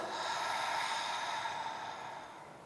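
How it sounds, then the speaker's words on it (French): A slow, deep breath drawn during a back stretch, one soft sustained airy exhale that tapers off, close and quiet, with no talking. "Et là, je peux prendre quelques respirations."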